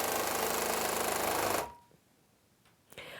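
A sewing machine stitches a quilt at constant speed in a loud, fast, even whirr for about a second and a half, then stops abruptly, leaving near silence and a faint click.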